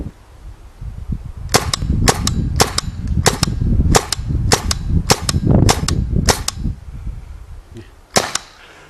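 A RAP4 T68 M4 paintball gun fires about a dozen sharp, loud cracks at a fairly regular pace, the last shot coming after a short pause, with low handling noise and rustle between shots.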